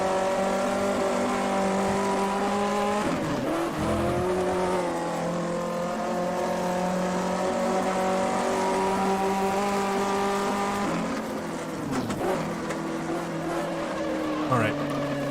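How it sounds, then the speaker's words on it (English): Vintage 1958 Formula 1 race car in a racing video game at Silverstone, leaving the pits: a steady, loud engine drone holds throughout, broken by two brief dips near 3 and 11.5 seconds as the engine shifts, with faint commentary underneath. "Car coming out of the pits here."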